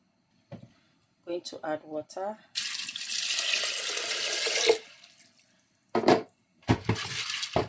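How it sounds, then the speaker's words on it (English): Water poured from a tap into a blender holding ground egusi, a loud steady splashing rush lasting about two seconds, with someone talking before and after it. "So I'm going to add water."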